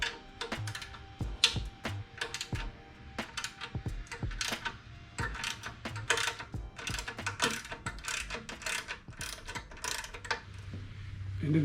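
Ratchet with a 10mm socket working loose a clamp on a Kawasaki slip-on exhaust, giving rapid close clicking and ticking bursts in uneven runs with short pauses between them.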